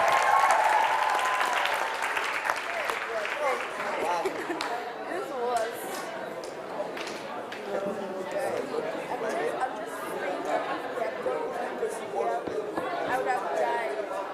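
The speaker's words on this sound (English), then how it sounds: "Clapping is very much in order." Delegates at an assembly clap after a motion passes. Applause swells at the start, then settles into scattered clapping mixed with a busy hum of chatter and voices across the room.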